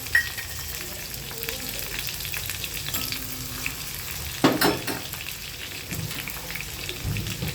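Garlic, curry leaves and chillies fry in hot oil for a homestyle chana masala, giving a loud, continuous crackling sizzle throughout, with a brief sharper spatter burst partway through.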